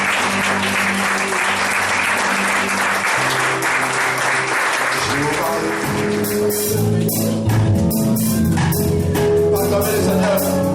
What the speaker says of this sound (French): Est-ce que tout le monde peut acclamer le nom du Seigneur très fort?